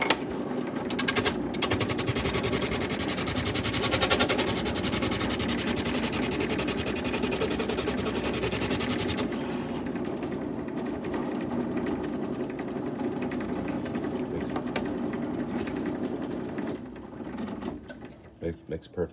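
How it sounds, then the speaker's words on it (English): Luthier's drum sander thinning wood under manual feed, a loud continuous grinding roar that runs steadily, eases and lightens partway through, then winds down near the end. "This is the drum sander, good for thinning tops, backs, and sides, but it's also worked great for making bridge blanks."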